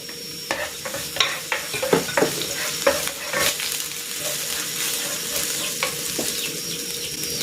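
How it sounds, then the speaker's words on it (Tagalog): Garlic sautés in cooking oil in a pan for pork menudillo, a bright continuous sizzle broken by repeated close spatula scrapes and clicks, no voices. "Igigisa ko na tong bawang"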